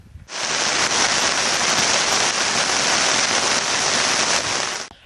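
Heavy northeast monsoon rain in Tamil Nadu, a steady, loud, even hiss of downpour that starts abruptly, holds constant for about five seconds and then cuts off, with no voices.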